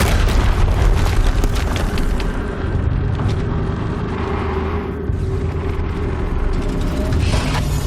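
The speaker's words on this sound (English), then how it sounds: "Another explosion." A heavy, sustained explosion rumbles through a scene in the video game Horizon Zero Dawn, a loud low roar with debris crackle that fades slightly midway and then swells again.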